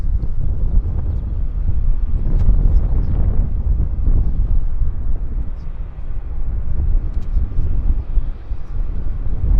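An American Airlines jet on approach to Vancouver Airport, a low broad engine roar rising and falling with wind buffeting on the microphone, moderately loud and continuous, with a voice talking over it.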